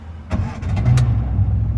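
A 1958 Morris Minor 1000 four-door engine cranks briefly with a few starter bursts, then catches and settles into a steady close idle, with no talking.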